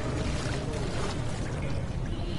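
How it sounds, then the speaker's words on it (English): Steady rushing, splashing water fills a dark scene in the horror game Amnesia, a continuous dense wash that is loud and close throughout, with no talking. "I heard splish splash and a growl"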